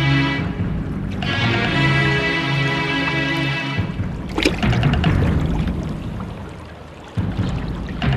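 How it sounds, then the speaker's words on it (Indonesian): The only waterfall in Simbar Manyura, a continuous loud rushing roar of falling water that runs steadily through the whole stretch, close by and alone, dipping briefly midway before resuming. "Ini satu-satunya air terjun yang ada di Simbar Manyura."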